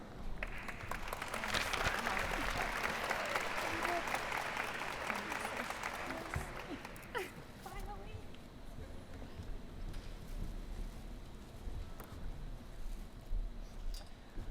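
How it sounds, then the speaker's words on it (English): Audience at a nursing program pinning ceremony claps for the graduates, loud dense applause that swells and then thins out after about seven seconds, leaving scattered claps and room noise. "Let's hear for another applause for our graduates."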